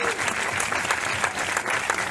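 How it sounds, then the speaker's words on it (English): An audience at a film festival foundation event breaks into steady, dense applause, many hands clapping together at moderate volume with a few voices faintly mixed in. "Clap it up for that."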